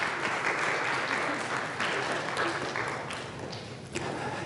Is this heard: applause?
yes